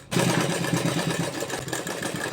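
A sewing machine stitching a shirt collar gives a close, continuous whirring motor hum with a steady mechanical buzz, heard alone for a couple of seconds.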